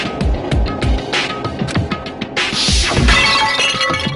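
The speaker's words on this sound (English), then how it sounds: "I grabbed the Monokuma bottle from the shelf and smashed it across her head!" A glass bottle shatters over someone's head in a Danganronpa game scene, a loud crash of breaking glass amid a dense run of impacts and clatter, with scattering shards filling the last part.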